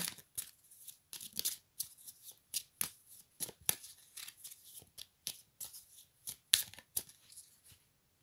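Oracle cards shuffled by hand, producing a quick series of crisp, papery riffles and slaps in uneven bursts, close but faint against a quiet background.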